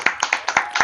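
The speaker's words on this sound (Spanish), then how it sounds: "Un aplauso, por favor." A handful of sharp, close hand claps on a podcast set, about seven of them in quick, slightly uneven succession, heard alone for under a second.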